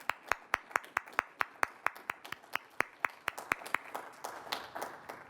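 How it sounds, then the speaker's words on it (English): Sharp, evenly spaced hand claps ring out close by, then more hands join in and the clapping thickens into a looser, overlapping round of audience applause at a Q&A event. "Let's give another round of applause, please."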